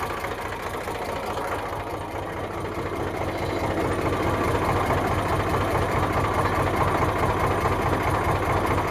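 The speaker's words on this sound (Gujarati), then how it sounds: "પાણી વગરનું રિકાર્ડો એન્જિન" An Eicher 368 tractor with a water-free Ricardo engine idles close by, a steady low chugging rumble with rapid even knocking that grows slightly louder partway through.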